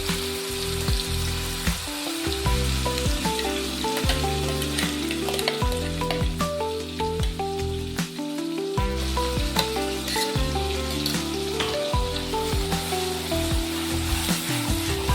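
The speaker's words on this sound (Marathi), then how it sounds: "कमी फ्लेमवर छान फ्राय करायचं आहे." Red chili thecha with asafoetida fries in a pan over a low gas flame, giving a steady close sizzle with faint stirring for the whole stretch and no talking.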